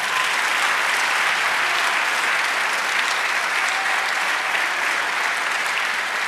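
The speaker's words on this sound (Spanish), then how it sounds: "Dale un aplauso al Señor." A church congregation claps in sustained, dense applause for several seconds during a worship service, fairly loud and steady with no talk over it.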